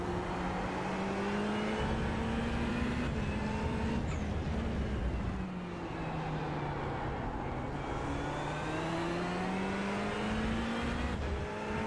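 A Porsche race car engine drones in a racing video game, holding a steady high whine that rises and falls with gear changes over twelve seconds, loud and continuous with no talk.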